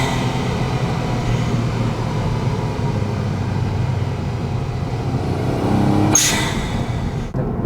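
A customised Honda S660 open-top sports car with a mid-mounted turbo engine and six-speed manual gearbox drones loudly and steadily nearby, with a brief sharp rising whine near the end.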